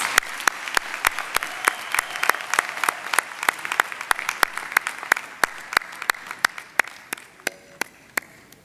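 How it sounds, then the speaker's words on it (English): Audience applause at a university graduation ceremony, a steady wash of clapping with a few sharp, loud individual claps standing out, thinning toward the end. "Let's give them another round of applause."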